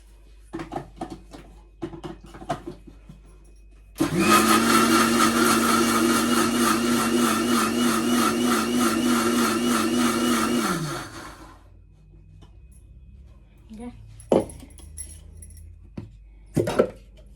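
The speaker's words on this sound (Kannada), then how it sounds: "ಟೊಮೆಟೊ ನಾನು ಕುದಿಸಿದೆಲ್ಲ ಅದನ್ನು ಈಗ ರುಬ್ತೀನಿ. ರುಬ್ಬೋದನ್ನು ಮಿಕ್ಸಿ ಹಾಕ್ತೀನಿ" A mixer grinder whirs loudly for about seven seconds blending boiled tomatoes into a thick paste, then winds down, with clattering and knocks of the jar before and after.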